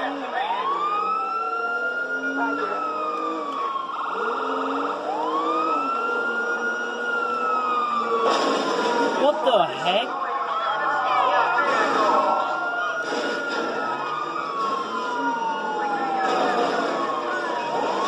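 Police car sirens in the video game Grand Theft Auto V wail, rising and falling continuously, loud and close, with a few sharp bursts of noise layered over the repeating sweeps.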